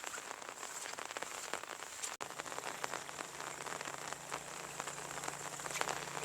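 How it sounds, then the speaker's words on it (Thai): Light, steady rain patters over transplanted rice paddies in rural Isan, Thailand, a dense even hiss of drops with a faint low hum beneath and no voices. "ในวันที่ฝนลิน"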